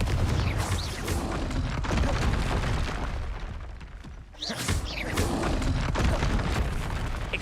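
Confringo blasting-spell explosions in the Harry Potter game Hogwarts Legacy, heavy booms and crackling bursts packed close together with a brief lull midway, loud and near.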